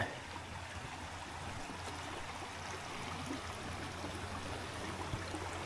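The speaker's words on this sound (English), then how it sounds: "these creeks literally run year round" Creek water runs steadily outdoors, a soft continuous babbling and trickling flow with no voices, fairly quiet and even throughout.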